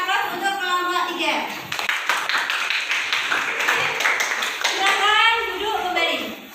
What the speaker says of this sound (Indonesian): beri aplaus untuk kelompok 3